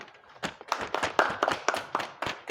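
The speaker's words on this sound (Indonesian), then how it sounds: "Tepuk tangan" A class of students claps hands together during a physical education lesson on fitness. The claps are scattered and uneven, clustering into a loose ragged burst at moderate loudness.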